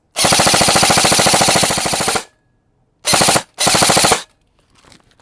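Lancer Tactical airsoft rifle with a 300-round magazine fires on full auto: one loud rapid burst of about two seconds, then two shorter bursts after a pause.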